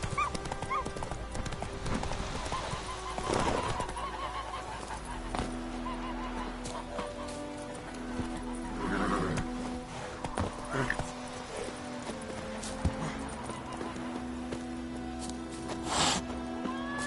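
Horse hooves clip-clopping at speed in a PS4 video game, with an occasional neigh over game ambience and a dog barking; someone speaks briefly in the middle.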